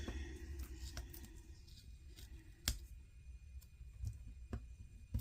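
Small paper stickers are peeled and shuffled on a paper planner, giving quiet scattered crinkles and sharp little ticks and taps at irregular intervals, close up in a hushed room.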